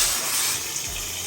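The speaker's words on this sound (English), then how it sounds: "And here's the shower pressure test." Strong hotel-bathroom shower spray in a Las Vegas Rio king room, heard as a steady, loud, hissing rush of water with no talking over it.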